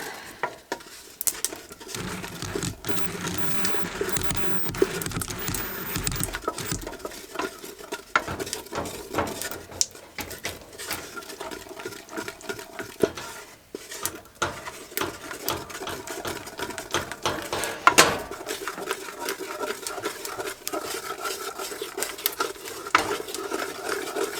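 Boiling maple syrup for maple sugar candy is stirred steadily in a pot, giving a continuous rapid scraping and bubbling patter that stays close and even for the whole stretch, with no talking.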